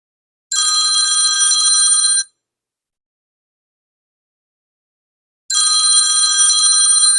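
An old-school phone ringtone rings in two bursts of rapid metallic bell trilling, each about two seconds long, separated by several seconds of silence, loud and clear with no talking.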